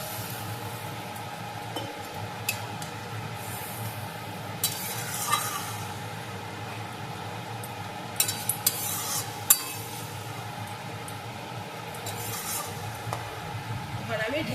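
Water added to a potato and cauliflower curry cooking in a pan, heard as a steady sizzling hiss with occasional clinks of a utensil against the pot, close and continuous, with a voice present in the background.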